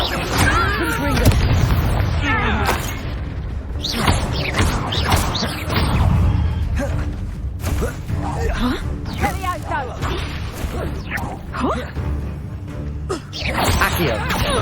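Confringo fire spell explosions in Hogwarts Legacy, booming bursts and thwacks in a busy, continuous battle mix with mechanical creaks, a voice speaking over the combat throughout.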